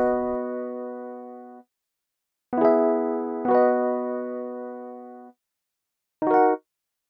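Rhodes-style electric piano chords played in sequence: two held tones that fade out, plus two short clipped stabs with shortened decay, separated by silence.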